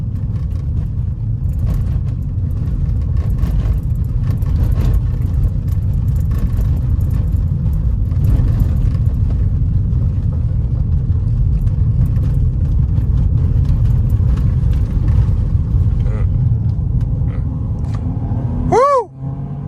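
A 2023 Ford Bronco Sport rolls along a gravel road at around 20 mph, its steady engine drone and tire rumble filling the cabin loudly and continuously, ending with a brief rising whoop of a voice.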